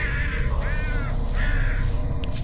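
A crow-like bird in the horror game Flesh Birds gives three harsh, rasping caws in quick succession, loud and close.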